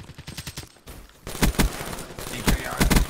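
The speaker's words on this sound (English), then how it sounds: "VMP sprays everything down within seconds." VMP submachine gun firing in Black Ops 3, with short rapid bursts of close, loud automatic fire after a brief quieter stretch, sprayed in quick succession with faint game sounds underneath.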